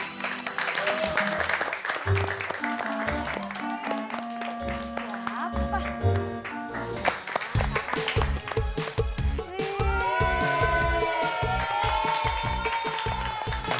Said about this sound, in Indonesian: Kasih tepuk tangan yang meriah dulu dong untuk kalian.